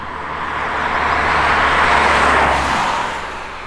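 A car accelerating up a hill, its engine and road noise swelling to a loud, broad roar as it passes close, then easing slightly, with no talking.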